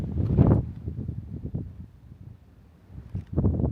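Gusts of wind buffet the microphone in bursts on a dirt road by a big canyon, loud rumbling thumps at the start and end with quieter stretches between.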